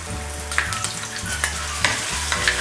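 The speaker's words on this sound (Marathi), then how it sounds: "चला तर तेल आपलं गरम झालेलं आहे. आता ही अद्रक आणि लसूणची पेस्ट आहे ना ती घालून घेते." Ginger garlic paste fries in hot oil for a jumbo prawn fry, a loud close sizzle with rhythmic spoon stirring and scraping against the pan.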